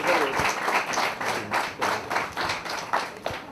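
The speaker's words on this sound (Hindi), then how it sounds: "और एक बार जोरदार से तालियां हो जाए।" Audience applause at a slum residents' seminar in Vakola, Santacruz, rising in several loud bursts of clapping with some voices mixed in close by.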